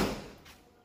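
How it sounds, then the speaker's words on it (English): A 1983 Oldsmobile Cutlass door swings shut with a single close, low thud up front that fades quickly into a quiet room. "Let me let y'all see how them doors close."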